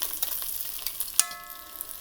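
Pot roast beef searing in a pan, a soft steady sizzle with faint crackles and a sharp clink about halfway through, fairly quiet and with no one talking.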